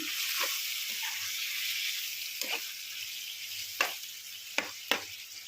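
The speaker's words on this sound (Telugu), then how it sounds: "ఇప్పుడైతే చికెన్ కూడా వేసేస్తున్నాం ఒకసారి మొత్తం కలిపేస్తున్నాం" Chicken pieces tossed into a hot frying pan and stirred, a continuous bright sizzle with several sharp scraping clatters of the spoon toward the end, close and clear.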